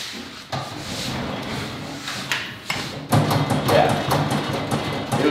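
A Homak RS Pro steel tool box drawer slides shut and latches, giving a few soft thumps and a sliding rub, then a louder rattling clatter near the end.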